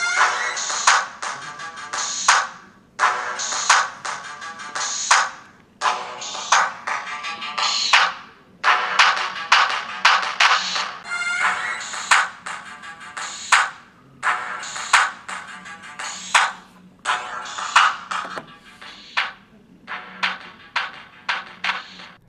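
The same song plays in turns through the small built-in speakers of a Samsung Galaxy S3 and a Nexus 4 phone, thin, tinny music in repeated short bursts separated by brief gaps, fairly loud and alone.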